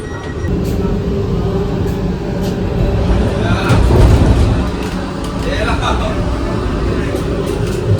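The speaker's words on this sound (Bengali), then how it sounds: "ট্রেন এসে দাঁড়ালো এখন এই নিউ জলপাইগুড়ি" A Vande Bharat sleeper express pulls into New Jalpaiguri station at night, its steady low rumble and rail clatter swelling toward the middle and then easing as it slows, with faint voices under the noise.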